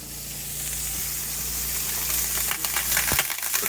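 A cutthroat trout fillet is set into hot butter in a pan inside a trailer and breaks into a rising, bright sizzle with crackling pops, close and steady, with no talking.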